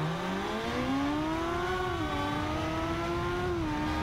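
A Ducati Monster motorcycle engine drones and revs in the racing video game Ride 2, its pitch rising and dipping with gear changes as a steady, loud engine tone.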